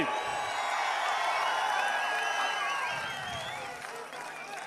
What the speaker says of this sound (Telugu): ఈ 3 పార్టీల్ని మనస్ఫూర్తిగా దీవిస్తామని, అండగా ఉంటామని గట్టిగా చప్పట్లు కూడా చెప్పండి